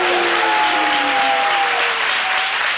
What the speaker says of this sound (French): Tonnerre d'applaudissements pour Paulus.